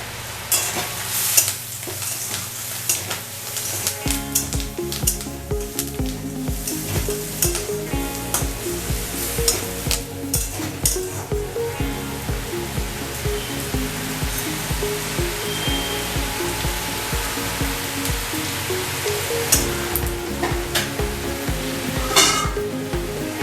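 Curry leaves hit hot oil in a pan for a South Indian-style mango rice dish, setting off a loud, dense crackling sizzle that continues throughout, with sharp pops near the start and end.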